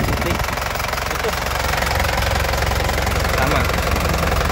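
Running engine of a black 2008 Toyota Grand Touring turbo heard up close with the hood open, a loud, constant idling rumble with a fine knocking texture and no breaks.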